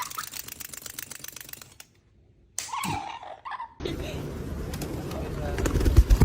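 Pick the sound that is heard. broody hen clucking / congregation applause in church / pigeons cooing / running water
pigeons cooing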